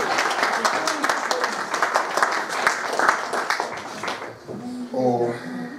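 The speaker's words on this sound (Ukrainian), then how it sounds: "Аплодисменты, пожалуйста." Applause from an audience at a library literary event, a dense run of claps for about four seconds that fades out, followed by a voice speaking.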